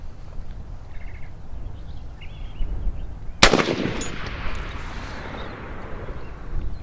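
An AR-15 rifle fires a 5.56 green tip round at a box of ammunition outdoors: one sharp, loud shot midway through with a ringing decay, and birds chirp faintly in the background.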